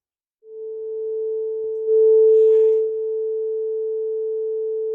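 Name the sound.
sine wave tone from a tone generator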